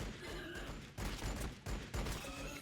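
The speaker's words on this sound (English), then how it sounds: "we can probably shoot them with our pistols a little bit" Pistol gunfire in the Warhammer 40K: Battlesector tactics game comes as three bursts of dense, rapid shots, each lasting roughly half a second to a second, fairly quiet and heard without talk.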